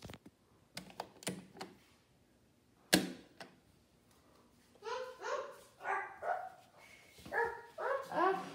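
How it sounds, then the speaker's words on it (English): A dog barks in a series of sharp, repeated yelps near the end, after some scattered clicks and knocks earlier. "That's our dog."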